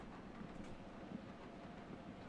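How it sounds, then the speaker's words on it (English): A train rolls along its rails, a low steady rumble with soft rhythmic clatter underneath, fairly faint and continuous, no voices over it. "yet I know it's a train"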